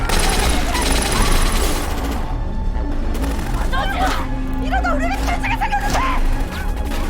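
Police opening fire in a crime film, bursts of gunfire and crashing impacts mixed with music and sound effects, loud and dense throughout.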